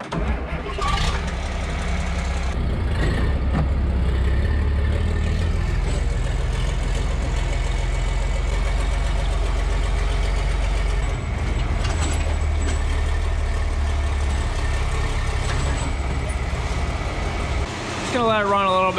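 A John Deere 4240 tractor with 17,060 hours on it idles steadily nearby, a deep continuous diesel rumble that holds level throughout.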